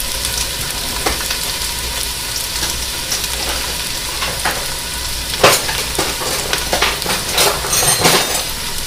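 Loud, steady sizzling of carrots dropped into hot oil for tomato bisque, with a few sharp clinks and scraping stirs of a wooden spoon over the constant crackle.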